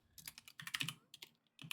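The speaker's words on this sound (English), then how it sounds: "we're going to type in Gimblocks" Close, crisp clatter of fingers typing on a computer keyboard, quick irregular keystrokes in short bursts with a brief pause near the end, no voice.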